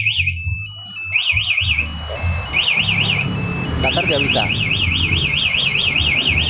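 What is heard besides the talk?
motorcycle alarm siren sounding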